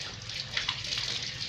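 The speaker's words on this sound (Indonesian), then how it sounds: "kita bilas kembali menggunakan air bersih yang mengalir dari keran." Running tap water splashes steadily over hands during a rinse, a continuous close hiss with no voices.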